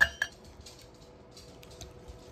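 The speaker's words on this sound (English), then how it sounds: "Whisk that all together" Key lime pie filling whisked in a bowl, giving a couple of bright clinks at the start and then light, faint scraping taps, close by and without talk.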